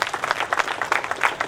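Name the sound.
audience applause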